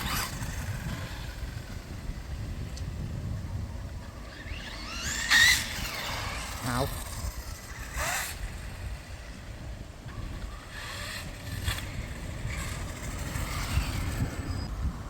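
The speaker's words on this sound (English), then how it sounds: "first we're going to test the Slash" Traxxas Slash RC truck driving, its electric motor giving a rising, squealing whine over a steady rough rolling rumble, with a few sharper bursts; one brief voiced exclamation.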